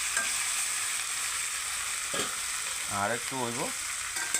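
A fish head fries in a pan with a steady, close sizzle throughout. Someone speaks a few short words partway through over the frying.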